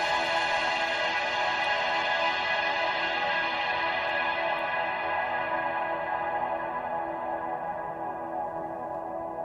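A sustained, dense filtered synthesizer tone from a Eurorack modular synth patched for goa trance, played loud and steady with a thick, buzzy texture and reverberant tail throughout, and no voices.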